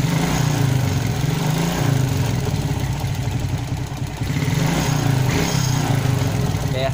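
A motorcycle engine idles steadily and slightly rough after a carburettor repair, a loud close low chugging hum with faint clatter that runs without a break and has a small dip near the middle.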